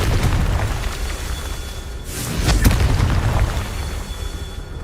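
In Hogwarts Legacy on PS5, a Confringo fire spell bursts into a single loud, deep boom midway through, rising out of steady game ambience and fading back into it.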